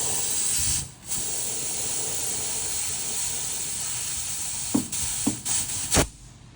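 Air hisses steadily from a clogged, pressurized line on a Porsche 356, a continuous close spray-like hiss broken by a brief dip and a few faint knocks near the end.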